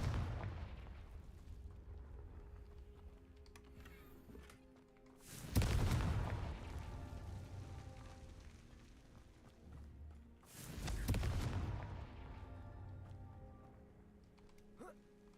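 Confringo spell explosions in the video game Hogwarts Legacy: two loud, sudden blasts several seconds apart, each decaying quickly over a low, quiet ambient background.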